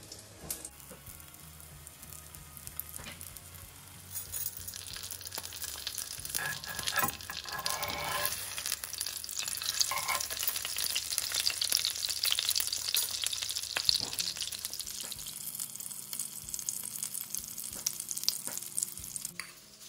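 A thin, flattened chicken breast fries in hot oil for chicken katsu curry, giving a steady crackling sizzle that grows denser and louder partway through, alone, with no talking.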